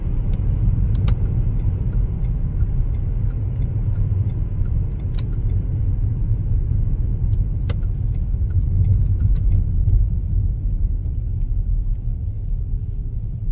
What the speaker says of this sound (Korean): 가속했을 때 미션 충격이 없고 엔진 소음도 없이 깔끔하게 나가는 것을 확인해 볼 수 있습니다